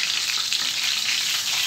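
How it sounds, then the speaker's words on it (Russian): Cheburek pastries sizzling and spattering in hot oil in a frying pan, a steady close crackle with no break over its short length. "Ой, масло брызгает во все стороны."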